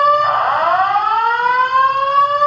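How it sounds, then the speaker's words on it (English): A fire alarm under test wails nearby, a loud sirenlike tone that swoops up and then holds steady, alone with no voices. "now that the fire alarm testing is over"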